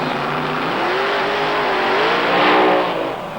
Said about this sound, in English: Our number 5 qualifier, surprisingly, is Peter Beck burning out there for Switzerland